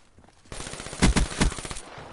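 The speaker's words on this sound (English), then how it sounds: "And it's a burst rifle" A high-caliber burst rifle fires in a video game, with several rapid bursts of sharp, loud, close shots in quick succession following a quiet start.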